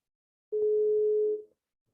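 A steady telephone dial tone sounds for about a second, clear and close, then cuts off into silence.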